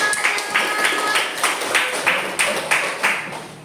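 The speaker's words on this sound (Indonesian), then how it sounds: "Oke, tepuk tangan untuk kita semua hari ini." A class of students claps hands in a classroom, a series of distinct, fairly regular claps with light background noise, close by.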